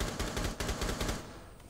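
Rapid automatic gunfire in Rainbow Six Siege rattles in a quick, regular string of shots, fairly quiet and at a distance, fading toward the end.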